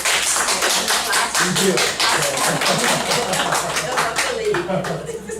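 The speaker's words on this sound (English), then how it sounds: "Let us give the presenters and the respondents a round of applause." An audience at an academic conference session on citizenship education in Asia claps for presenters and respondents: dense, steady applause throughout, easing slightly at the end, with voices murmuring underneath.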